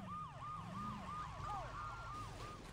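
Police car sirens wail in a fast, repeating yelp pattern over a low engine rumble during a Saints Row 2 chase with a military truck. The sirens are faint and steady, and no one speaks.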